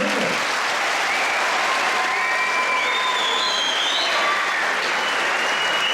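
Dense audience applause fills a conference hall for a disability day talk by an author, a continuous loud clapping with a few faint whistles and cheers above it.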